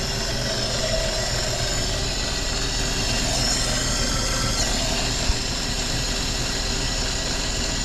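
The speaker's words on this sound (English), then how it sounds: "the noise you're hearing right now is coming from the carburetor" Inline-six 235 engine of a 1954 Chevrolet Bel Air idling with the air filter removed, a steady close rumble with loud carburetor intake hiss and whoosh, even and unbroken throughout.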